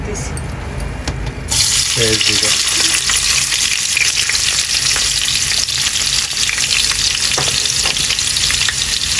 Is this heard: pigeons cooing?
no